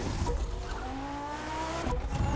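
A Lamborghini in the racing game The Crew 2 roars steadily, its engine note rising and falling while the tires squeal in brief bursts, loud and continuous with no voice over it.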